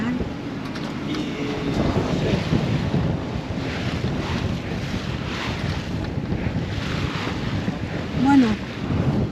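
Strong wind gusts buffet a sailboat at sea with breaking waves of just over a metre, a continuous loud rushing roar with surging swells, and a brief louder gust near the end.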